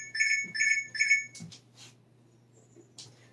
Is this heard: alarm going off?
yes